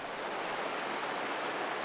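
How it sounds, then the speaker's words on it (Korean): Rapids on the Taehwa River make a dense, continuous rush of water, loud and even with no pauses and no voices. "요란하게 흐르는 물소리로"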